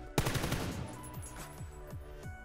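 A sharp opening shot and then a fast, evenly spaced spray of automatic gunfire from a leaning player in PUBG, each shot crisp and near, the burst slowly fading.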